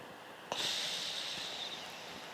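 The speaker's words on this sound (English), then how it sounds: "So let's take those 4 breaths in." A single deep inhalation during a guided breathing exercise begins abruptly and then holds as a steady, close, airy hiss for nearly two seconds before easing slightly, with no talking.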